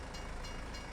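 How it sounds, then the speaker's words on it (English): A train passes in Farming Simulator 22, giving a steady, dense rumble with a faint hiss. The sound stays at an even, fairly quiet level through the short moment, and no one speaks over it. "Nice, get to see the train."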